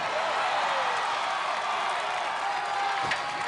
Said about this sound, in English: he's through the walking bar, and the crowd erupting